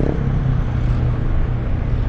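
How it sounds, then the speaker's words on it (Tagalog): Steady low rumble of road traffic on EDSA, a flood-damaged, potholed road after typhoons Crising and Emong, with vehicle engines passing close and continuously throughout without a break. "Oh, aga traffic dito oh."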